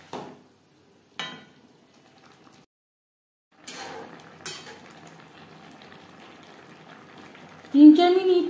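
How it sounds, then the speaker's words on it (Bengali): Broccoli and fried paneer are stirred together in a pan, with a few brief spoon scrapes and clinks separated by near silence, then a soft low sizzle that continues beneath a voice talking at the end. "ব্রকলির সাথে পনির বেশ ভালো করে মিক্স করে দেব।"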